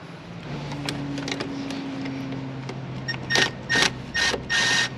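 A ratchet with an extension turning bolts under the hood of a 2018-2021 Honda Accord, giving several short clicking bursts near the end after a stretch of quieter mechanical ticks and a faint hum.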